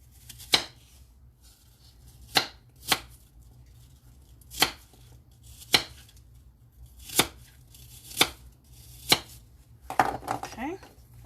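A knife chops an apple in sharp, separate strikes, about ten spaced a second or more apart, close and fairly quiet over a soft low hum.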